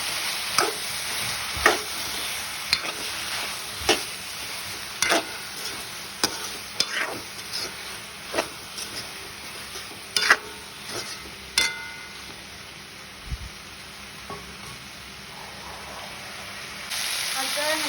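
Boiled potatoes tumble into a frying pan and are stirred steadily, a run of scraping and clacking strokes over a low background sizzle, with occasional faint talk.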